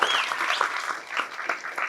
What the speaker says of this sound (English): So give a round of applause.